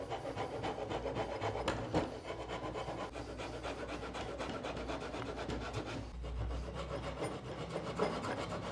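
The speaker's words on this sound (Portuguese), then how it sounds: "Aquele velho risco que a gente dá com a serrinha, com o arco de serra ou com o serrote" A small hand saw strokes back and forth across wood, scoring a shallow guide line for a diamond carving; soft, steady rasping strokes close up, with no talk.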